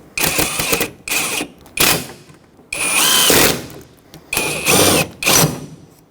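A power tool runs a small fastener down on a 2011-2016 Ford F-350 hood hinge in six short, close whirring bursts, each about half a second long, separated by brief pauses.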